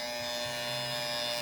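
A small electric mini fan runs steadily and close by, giving a continuous whirring motor hum with a faint high whine and no voices over it.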